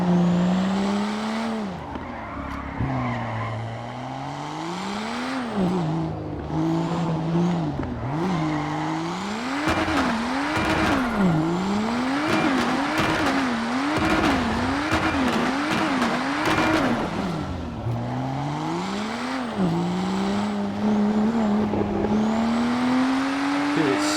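A BMW 7 Series E32 in the FiveM driving game revs up and down repeatedly, its engine note rising and falling in quick pulls with brief tire-squeal hints, loud and continuous.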